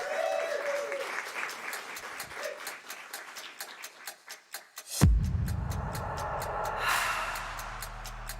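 A crowd at a Berklee NYC winter open house applauds for students coming up to perform. The clapping is moderate and sustained, then a loud, bass-heavy band performance abruptly takes over partway through.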